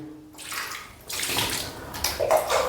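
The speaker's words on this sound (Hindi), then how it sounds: "अब दोनों पैर आपको टखनों समेत धुल लेना है" Water poured over the feet up to the ankles during a ritual bath, splashing and running in a steady close wash with louder bursts toward the end, no talk.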